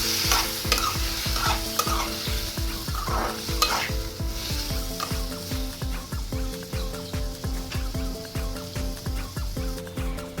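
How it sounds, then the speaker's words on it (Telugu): Tomato pieces fry in a pan while being stirred, giving a loud close sizzle broken by a rapid run of rhythmic scraping strokes that continues throughout. "ముందుగా కట్ చేసి ఉంచుకున్న టమాటా ముక్కలు ఇందులో వేసుకొని కలుపుకుంటున్నాను"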